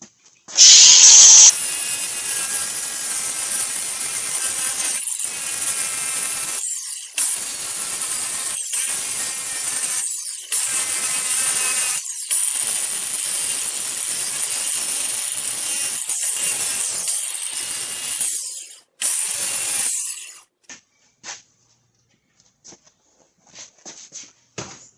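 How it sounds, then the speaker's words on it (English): A flap disc grinding off metal during a 2009 Buick Enclave high-pressure A/C hose repair, a loud, harsh steady whine in long passes with brief breaks, ending in short bursts as the grinder spins down. "I'm going to grind them off a little bit. I'm just using a flapper."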